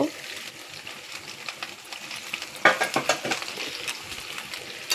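Chicken kosha is stirred in a sizzling pan, a low frying hiss underneath, then a run of spoon scrapes and knocks that grow louder toward the end.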